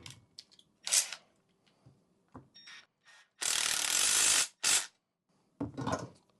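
Ratchet wrench removing bolts from an overhead garage storage rack: short clicking ratchet bursts in the quiet, including one long steady run of clicks and a few brief spurts, close and fairly soft.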